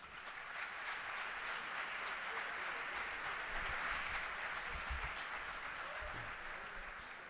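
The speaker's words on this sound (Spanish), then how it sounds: "Otro aplauso para ellos" An audience applauds award-winning architects at an Ibero-American architecture biennial ceremony, the clapping steady and even but faint and distant, holding at one level throughout before easing slightly at the end.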